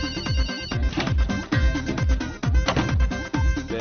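A telephone ringtone plays in a repeating, rhythmic electronic pattern, loud and close, with no talking over it.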